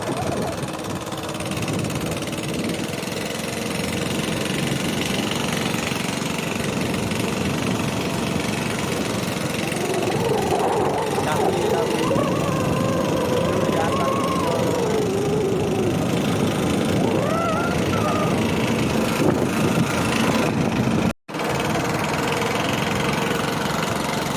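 A TVS XL100 moped engine drones steadily while riding along, a continuous mid-pitched running note with wind and road noise throughout, loud and close, briefly cutting out near the end.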